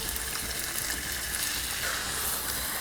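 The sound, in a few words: beef stir frying in pan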